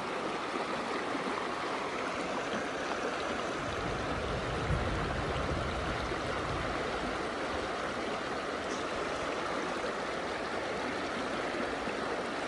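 A small river stream in Nepal rushes steadily in a continuous, dense wash of flowing water, close and fairly loud, with no voices.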